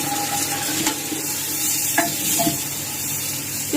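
Finely chopped onions fry in hot ghee for a village-style kadhi pakora, a loud close sizzle broken by a few sharp stirring scrapes of the spoon against the pan.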